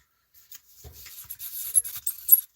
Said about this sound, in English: I'm looking for a small piece of sandpaper